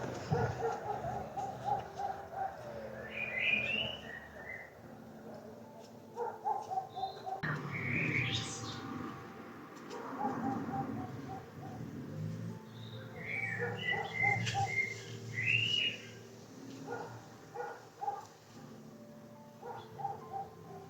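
Birds chirp and twitter intermittently outdoors over a steady background hum, with a pigeon-like coo in places; no talking.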